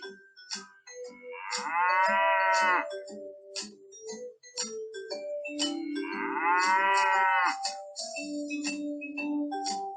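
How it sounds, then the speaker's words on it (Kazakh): Two long, resonant cow moos a few seconds apart, with clinking bell-like tones and background music running underneath. "Сиыр мөңірейді."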